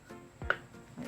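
A single knife stroke slicing food in half on a cutting board for pork cabbage rolls with century egg, one soft close thunk against quiet background.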